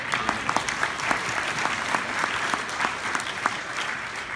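Audience applause at an Easter Sunday baptism church service, a steady wash of many hands clapping with sharper individual claps standing out, continuous and fairly close throughout.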